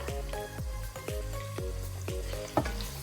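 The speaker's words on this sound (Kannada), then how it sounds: "ಇದನ್ನ ಸ್ವಲ್ಪ ಫ್ರೈ ಮಾಡ್ಕೊಳ್ಳೋಣ." Two onions fry in a pan where spices are already sizzling, for a mutton biryani. A steady sizzle runs underneath louder background music with deep falling bass tones.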